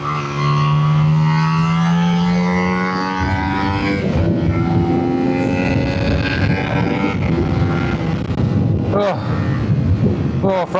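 A race car runs its last lap at the Hooton Park circuit, heard from onboard as a loud engine drone whose pitch climbs and falls through the gears over constant wind buffeting.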